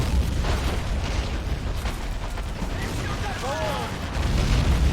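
A tank blown apart in the Men of War: Assault Squad Stalingrad 1942 battle, heavy rumbling explosions and booms over a constant loud battlefield din.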